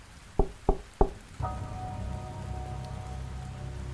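Rain falling steadily on surfaces, starting after three sharp knock-like taps and settling into a constant even patter.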